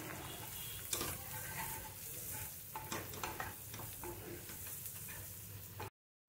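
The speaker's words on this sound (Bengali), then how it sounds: "এটা দিয়ে ভালো করে নেড়ে নেব।" Spice masala and fried onions are stirred in a pan, giving a low sizzle broken by sharp scrapes and clacks of the spoon. The sound drops out just before the end.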